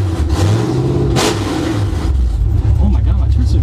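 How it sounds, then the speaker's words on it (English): Ford F100 pickup with a five-speed swap and open headers drives, its engine a loud, continuous rumbling roar that rises briefly with a rev; people talk over it. "But I'm gonna drive it with open headers."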